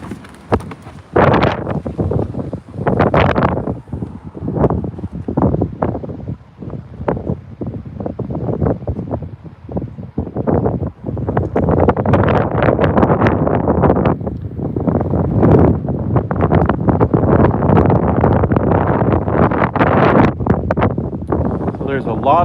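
Strong wind outside during a Texas storm, loud gusty buffeting and roaring in bursts against the microphone, building to a sustained blast in the second half, with someone talking over it at times.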